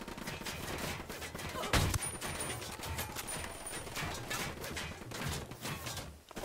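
Gunfire in the tactical shooter Ghost Recon, a continuous muffled exchange of rapid shots at moderate distance with one heavier thump near the middle, fairly quiet and steady throughout.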